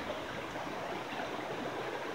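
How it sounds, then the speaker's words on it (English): Abrams Creek in the Smoky Mountains running high after a night of heavy rain, a loud, steady rushing of water close by with no other sounds. "I'm right next to the creek, and it rained so much last night"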